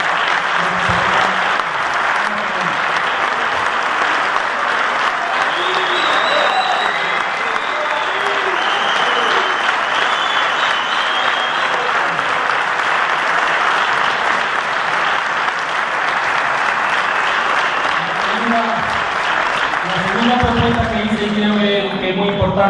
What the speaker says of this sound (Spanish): Yo me gustaría que todo el mundo aquí presente le diese un aplauso